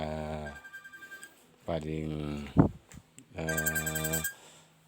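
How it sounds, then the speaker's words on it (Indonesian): An incoming call on a telephone rings in several sustained tonal bursts, fairly loud and close, with a short noisy clatter between the rings in an indoor massage setting. "Ini saya angkat telepon dulu ya teman-teman, agar ini ada telepon masuk"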